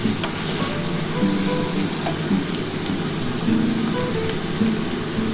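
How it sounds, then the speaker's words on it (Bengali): Potatoes sizzle and crackle steadily in hot oil, a dense continuous frying hiss with no pauses, loud and close throughout. "আমি প্রথমে আলুটা দিয়ে দিলাম বন্ধুরা"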